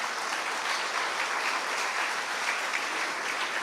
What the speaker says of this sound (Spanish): Denle el aplauso mejor de una vez.